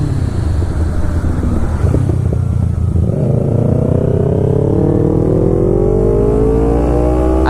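A Kawasaki Ninja 250 sport motorcycle accelerating hard up through the revs, its engine whine climbing steadily in pitch over several seconds, loud and close throughout, with no one speaking.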